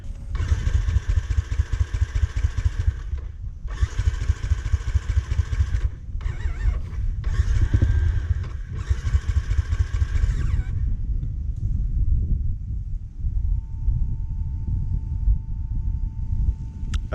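A dirt bike engine in dense woodland runs roughly, its rumbling idle surging and dropping in uneven bursts with brief stumbles, then settling into a steadier low drone toward the end.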